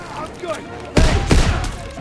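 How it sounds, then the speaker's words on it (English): Shotgun blasts in Call of Duty: WWII, two close, heavy booms about a third of a second apart, following a brief stretch of quieter background sound. "how many freaking shotgun blasts does it take here?"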